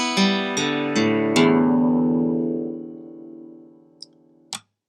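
Four electric guitar strings in standard E tuning are plucked one after another from high E toward low E, each ringing out and overlapping into a sustained, slowly fading chord, followed by two small clicks.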